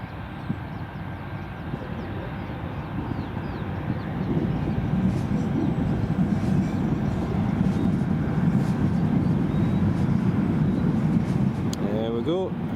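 Airbus A319 engines at Newcastle International Airport, a steady, broad rumbling roar that holds at the same level throughout and swells slightly after the first few seconds.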